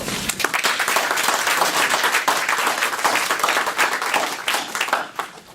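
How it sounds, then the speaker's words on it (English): A conference audience at the 2017 Ascend New England IAG closing session breaks into loud, sustained applause, many hands clapping densely for about five seconds before tapering off at the end. "I think everybody, first of all, deserves a round of applause."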